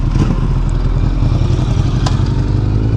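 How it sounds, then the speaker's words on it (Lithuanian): A motorcycle rides on a road toward a motorcycle festival, its engine giving a loud, close, steady mid-pitched drone with a throbbing rhythm and slight clatter, no voices. "visokie muzikiniai motociklai jau sutinkami kely"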